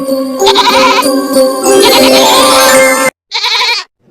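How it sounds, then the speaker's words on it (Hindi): A goat bleats loudly and close by in long, wavering cries, followed after a short pause by one shorter bleat. "यह तो बकरी के चिल्लाने की आवाज है"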